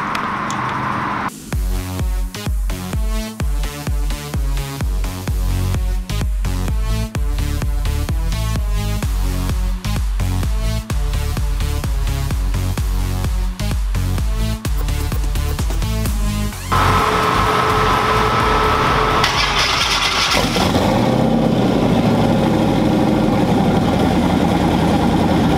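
A race vehicle's engine runs steadily after a fuel pressure regulator adjustment, with a loud, choppy, rhythmic firing pulse. Near the end it swells into a rougher, broader roar.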